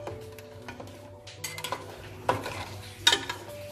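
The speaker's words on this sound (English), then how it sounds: "So gently try to mix the paste that it should go everywhere." Crab curry paste being gently stirred in a cooking pot, with soft scraping and clinks of a utensil against the metal and a faint sizzle underneath, a few sharper knocks standing out, no talking.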